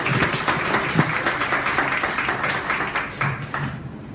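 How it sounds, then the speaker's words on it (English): An audience at a landing-page workshop in a Chiang Mai coffee club applauds steadily for about four seconds, a dense wash of many hands clapping that tapers off at the end. "Give him a big round of applause, please."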